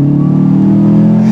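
Subaru WRX bugeye wagon with an Invidia exhaust and about 93,000 miles idling or revving gently close by, a loud, steady low burbling drone that stays even throughout.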